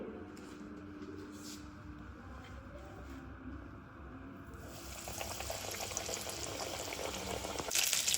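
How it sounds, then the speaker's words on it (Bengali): Breaded Kolkata-style fish fry pieces, coated in biscuit crumbs, bubble in hot oil with a soft, continuous sizzle that swells louder in the second half, with no voices. "তো একটা একটা করে ভেজে নিই।"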